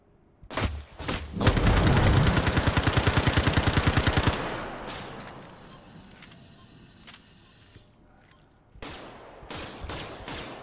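Gunfire in the Star Citizen video game: scattered single shots, then a loud rapid automatic burst of evenly spaced rounds, followed by a rumbling lull and a few more sharp cracks.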